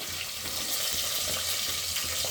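Chopped onions dropped into a pan of frying green chillies for a soya chunk biryani, giving a steady, bright, close hiss of oil with no talking.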